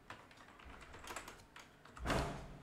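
Quiet tapping on a computer keyboard at close range, several quick light keystrokes with a slightly louder burst near the end.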